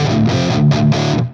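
An electric guitar through a Marshall amp model on a UAFX pedal, with extra distortion and level, plays a few loud, crunchy sustained chords in short bursts.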